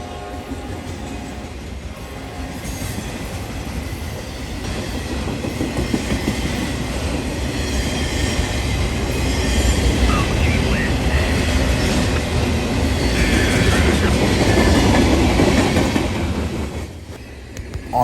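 A freight train led by SD70ACe, AC44C6M and ES44AC locomotives rolls past heading east, a steady heavy rumble with rhythmic wheel clatter growing louder mid-pass before easing at the end.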